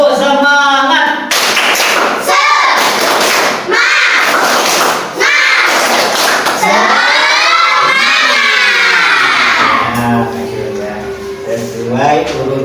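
A classroom of children performs a rhythmic clapping cheer, loud and close, with bursts of patterned claps mixed with chanting voices and shouts that fade into quieter talk at the end.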